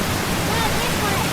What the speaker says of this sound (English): we're hiking up the waterfall